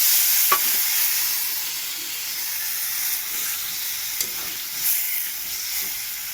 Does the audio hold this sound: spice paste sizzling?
yes